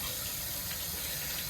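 Water rushes steadily out of an RV water heater's drain during annual flushing, a constant loud gushing hiss without pause or talk.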